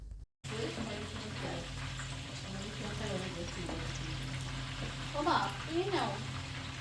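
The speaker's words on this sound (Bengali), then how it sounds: "লাবণী আপা একটা একদম দ্রুব তেলে পরোটা ভেজে দিল পাপড় স্টাইলে" Paratha deep-frying in hot oil, a steady close sizzle with bubbling bursts running throughout, after a brief cut at the start, with voices talking over it.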